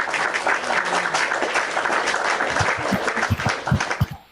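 A host claps hands during a live-streamed news talk show, a blur of applause-like patter that turns into several distinct close claps near the end.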